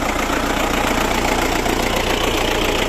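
An MTZ tractor's diesel engine runs close by, pulling a disc harrow through a buckwheat field, with a steady, loud, rumbling chug and no talk over it.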